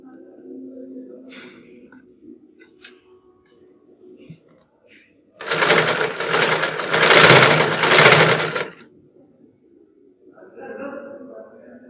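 A sewing machine stitches underwear fabric in one loud, fast, buzzing run of about three seconds, with quiet handling and soft talk before and after.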